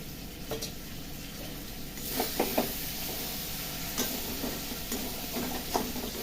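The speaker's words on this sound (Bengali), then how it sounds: "যত মশলা ছিল গুঁড়ো মশলা দিয়ে দিয়েছি, আদা রসুন দিয়ে পেঁয়াজ দিয়ে ভালো করে ভেজে নিলাম।" Ground spices with ginger, garlic and onion frying in a pan, giving a steady soft sizzle with occasional clinks and scrapes of stirring.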